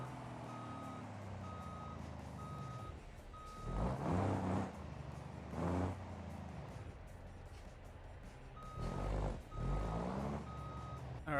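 Tow truck in a driving game reversing, its steady beeper pulsing in regular short tones while the diesel engine surges and drops in two loud bursts, with a hiss like air brakes near the end.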